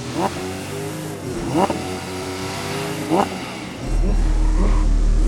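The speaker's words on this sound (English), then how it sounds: "Nick, can you rev up your car?" A car engine in the video game Driving Empire revs up in three quick bursts, then holds a steady loud drone, with faint voices in the background.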